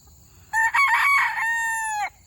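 A backyard rooster gives a single loud, close cock-a-doodle-doo lasting about a second and a half, a stuttered opening followed by a long held note that cuts off sharply, with no talking over it.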